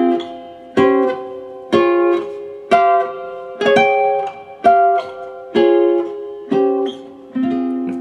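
A guitar strums a series of ringing three-note chords built from a pentatonic scale, about one per second, each struck cleanly and left to sustain before the next.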